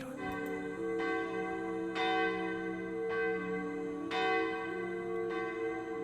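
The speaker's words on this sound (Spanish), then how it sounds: "las campanadas del convento resonaron" Convent church bells ring out in a slow, regular sequence of sustained, resonant strikes, each swelling and decaying into a long humming tail, heard clearly and at moderate distance with no voices.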